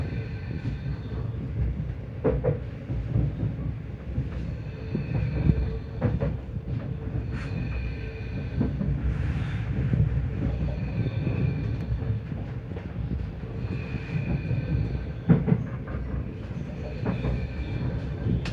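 Interior of an NS ICNG intercity train while running, a low steady rumble with faint rhythmic wheel clicks and occasional soft squeals, quiet and continuous with no voices.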